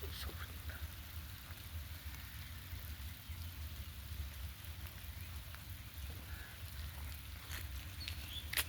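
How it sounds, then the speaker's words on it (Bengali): Light rain patters softly beneath an Arjun tree outdoors, a faint steady drizzle with scattered drops over low background rumble, no voices. "আর টিপ টিপ টিপ টিপ করে বৃষ্টি পড়ছে, ভালো লাগছে।"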